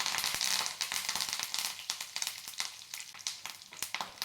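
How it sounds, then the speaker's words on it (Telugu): Dried red chilies, garlic cloves and curry leaves fry in tempering oil for a tomato coconut chutney, a close, dense sizzle full of rapid crackling pops throughout, with no voices. "రెండు ఎండుమిర్చి అలాగే ఒక రెమ్మ కరివేపాకు కూడా వేసి వేయించండి"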